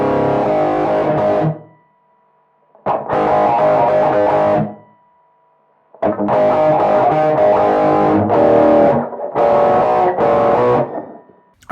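Distorted electric guitar through a modeled amp shaped with parametric EQ, loud sustained chords in four separate bursts with short silences between them.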